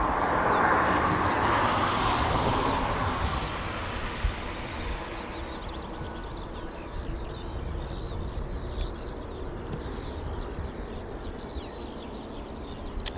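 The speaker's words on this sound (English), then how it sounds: "another aircraft taxiing out for departure, and it's another Grob Prefect." A Grob Prefect training aircraft taxiing out for departure at an RAF airfield, its propeller engine droning steadily, louder at first and then easing to a lower hum.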